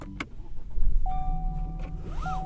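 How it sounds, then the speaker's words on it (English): A 2021 Chevrolet Trailblazer starts up close by in the cabin: a brief crank and the engine catching, followed by rising electronic chime tones over a low engine hum. "Let's start it up and get out on the road."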